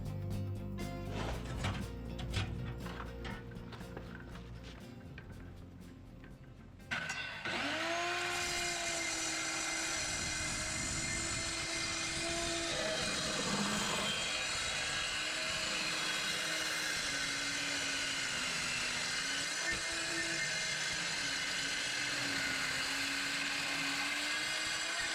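A Skil saw cutting through metal while an old Geordie G is reconditioned, a loud continuous grinding whine with a wavering pitch that starts abruptly after some clattering and runs close throughout.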